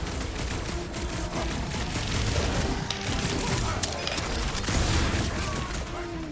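Blaster fire in a Guardians of the Galaxy video game, dense rapid bursts of energy shots mixed with crashes and impacts during a chaotic battle, loud and continuous.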